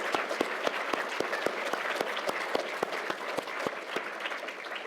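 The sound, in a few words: applause at the 2023 AI Awards ceremony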